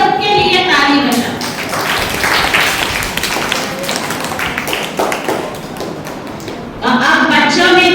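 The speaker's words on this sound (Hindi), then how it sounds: "तो सभी एक बार अपने खुद के लिए ताली बजाओ।" A group of children at a summer camp claps together in a dense, sustained burst of applause. An adult's voice can be heard just before and just after the clapping.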